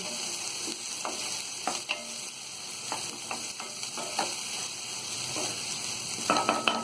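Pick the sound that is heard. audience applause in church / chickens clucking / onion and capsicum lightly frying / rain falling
onion and capsicum lightly frying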